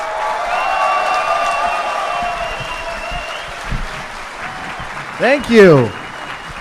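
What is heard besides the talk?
audience applause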